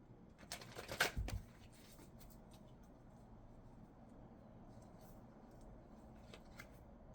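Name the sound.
shuffling Oracle Tarot cards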